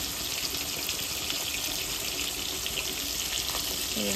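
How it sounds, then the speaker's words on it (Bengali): Fish sizzles and crackles in hot oil in a pan close by, a constant frying hiss. "আর এদিকে এখন আমি মাছ ভাজছি।"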